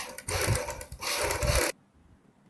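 Sewing machine stitching kurti fabric: two fast, close, rattling runs of stitching separated by a brief pause, then a sudden stop into near silence.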